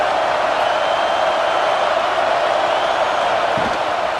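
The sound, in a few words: stadium crowd noise in College Football 26 video game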